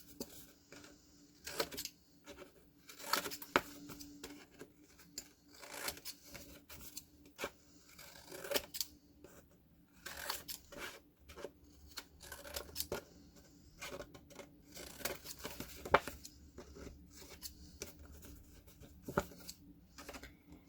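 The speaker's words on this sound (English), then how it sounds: "So I'm going to keep cutting off the corners." Scissors snip the corners off a rounded paper shape for a spirit week hat, a run of quiet, close, irregular cuts with rustling paper between them and no talk.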